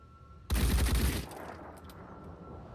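A short, loud burst of automatic gunfire erupts in a Phoenix Point tactical battle, lasting under a second before trailing off into faint echoes and low rumble.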